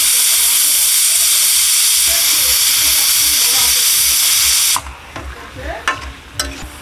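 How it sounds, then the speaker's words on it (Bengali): A pressure cooker cooking lentils (dal) vents a loud, steady steam whistle-hiss for several seconds, then cuts off abruptly, leaving quiet kitchen clatter and a few light knocks. "এদিকে 4টে মতো সিটি পড়েছে, আর কটা সিটি দেবো।"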